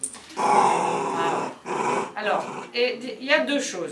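A nine-month-old puppy, fearful at the vet, growls low and steadily in several drawn-out rumbles up close, with someone speaking French over and between the growls.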